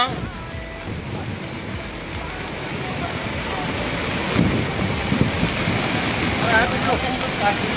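Floodwater of the Ravi river rushing in a steady broadband roar, with wind buffeting the microphone and a voice talking faintly underneath.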